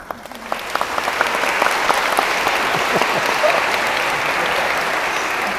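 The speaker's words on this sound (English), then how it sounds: "round of applause." A wedding ceremony crowd at a church breaks into a round of applause, steady, dense clapping that swells within the first second and holds loud and continuous, with a faint murmur of voices beneath.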